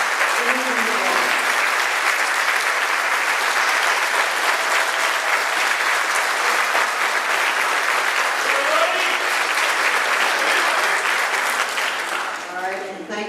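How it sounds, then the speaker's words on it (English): Sustained applause from a standing audience at a Hidalgo County elections forum, honoring candidates for office; dense, steady clapping at full strength for about twelve seconds, thinning at the very end, with a few voices faintly audible beneath. "So please stand up and let's clap for them for their willingness to serve"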